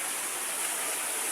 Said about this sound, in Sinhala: අපි ආවා තුන්වෙනි දියැලට.